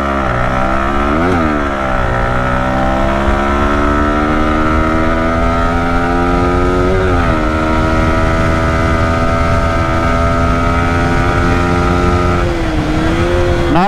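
A sports-style motorcycle being ridden on a road near Gaighat, its engine droning steadily and loudly close by, with a few quick shifts in pitch as the rider changes speed.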